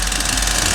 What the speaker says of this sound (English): the engine speed must be reduced to idling speed as soon as possible